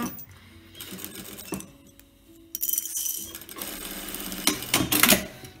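A sewing machine stitches along the bottom edge of a fabric face mask in a few bursts of rapid mechanical whirring and clicking, separated by short pauses and quieter handling sounds, close up with no speech.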